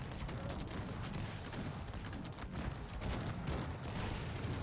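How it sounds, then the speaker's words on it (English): Dense, continuous volleys of musket fire and booming cannon blasts roll on without pause, a chaotic battlefield din at steady high volume, from the video game Cossacks 3. "I think it's the cannons that deal massive damage to the morale of my troops"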